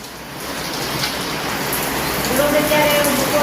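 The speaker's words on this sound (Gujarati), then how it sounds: "ક્યાં વરસાદ શરૂ થઈ ગયો છે તો ધીમો ધીમો વરસાદ આવે છે" Light rain falls steadily nearby, a soft continuous patter that swells slightly toward the end, with a voice talking faintly underneath.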